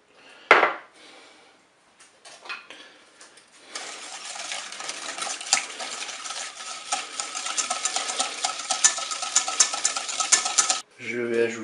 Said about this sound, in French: je vais commencer par battre le sucre avec le beurre